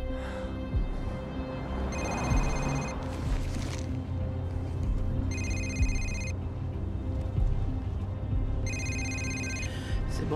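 A telephone rings in three evenly spaced bursts of electronic trilling, each lasting about a second, over a steady low background hum in a film scene; no one speaks.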